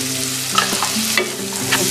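Capsicum and peas frying over golden-browned onions in a pan, stirred with a steady sizzle and a few sharp scraping strokes; close and fairly loud, no voices.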